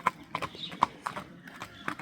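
A horse is led along, its hooves clip-clopping in an uneven, close rhythm of sharp knocks, with faint voices in the background.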